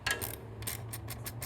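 A 12 mm socket ratchet tightens an exhaust bolt on a Triumph Street motorcycle, giving quick, close, rhythmic pawl clicks in short repeated bursts with no talking.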